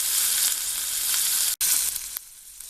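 A steak fries in a pan with butter and beef dripping, giving a loud, steady close-up sizzle with a brief dropout partway through and no voices.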